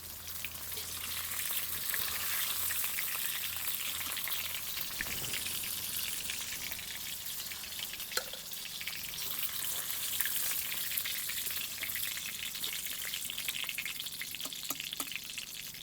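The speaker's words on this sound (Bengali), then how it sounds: "এবারে মাংসগুলো উল্টে দেব এইভাবে উল্টে পাল্টে লাল লাল করে ভেজে নেব মাংসগুলো" Marinated chicken pieces frying in mustard oil in a kadai, a constant crackling sizzle like light rain, close and even throughout with faint utensil touches and no talk.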